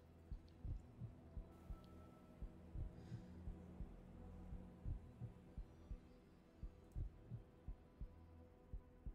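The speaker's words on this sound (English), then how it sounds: "She feels her heartbeat slow" A slow heartbeat sound effect thumps in a steady low double pulse, quiet and muffled over a faint hum, with no voices.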